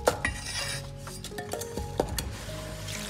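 Chunks of peeled, cut lotus root are dropped into a basin, giving a quick run of hard knocks and clatters with scraping in between, close up and with no voices.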